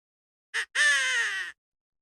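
A voice imitates a crow's caw: one short harsh note, then a longer drawn-out raspy caw, close and fairly loud against silence.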